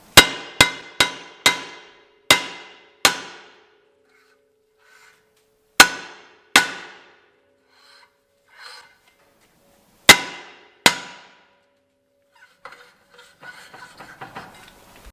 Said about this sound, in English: we're just gonna have to hammer this out